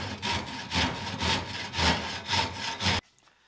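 A hand saw cuts through wood uprights for a triangle shelf, with six even back-and-forth rasping strokes, close and loud, ending abruptly in near silence.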